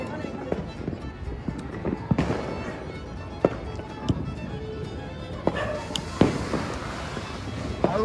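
New Year fireworks bursting at a home celebration, several sharp cracks and pops scattered irregularly, some near and some farther off, over a constant background hum with people talking.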